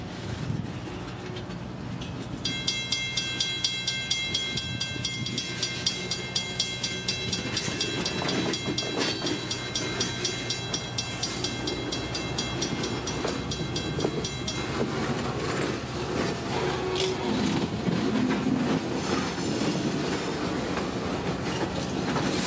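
Freight train switching loaded produce cars on an industrial spur, with steady rolling rumble, rhythmic clickety-clack of wheels over rail joints and occasional squeal, moderately loud and continuous without talk.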